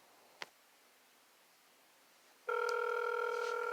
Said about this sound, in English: that must be the phone